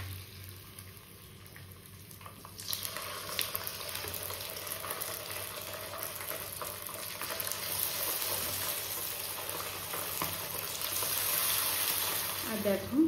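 Fish frying in hot oil in a home kitchen, a steady broadband sizzle that swells after a couple of seconds and holds, close and moderately loud, with faint talk underneath.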